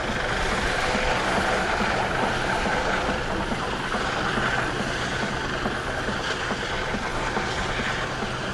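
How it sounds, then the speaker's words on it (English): A steady, dense mechanical roar holds constant throughout as a Coast Guard MH-65D Dolphin helicopter's rotor and engine drone nearby without pause during an air show search-and-rescue demo. "The helicopter that you're watching today"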